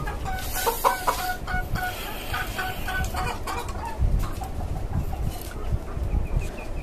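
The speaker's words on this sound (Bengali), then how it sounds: "আরো 2টা মোরগ বের করছি আমি" Backyard chickens and roosters let out onto a rooftop farm cluck in a steady overlapping chatter, with sharper calls scattered throughout close by.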